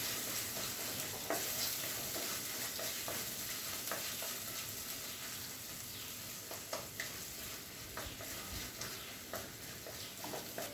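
Ginger and garlic sauté in a pan for a spicy prawn curry, a continuous low sizzle with repeated light spatula clicks and scrapes at an uneven rhythm, close by and free of speech.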